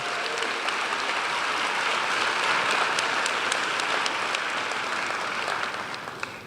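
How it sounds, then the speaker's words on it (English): A graduation audience at Bard High School Early College applauds its student speakers, a full, steady roar of clapping that tapers off toward the end, with no voices over it. "So a round of applause again to all of our student speakers today"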